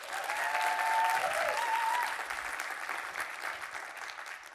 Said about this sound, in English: Round of applause for David.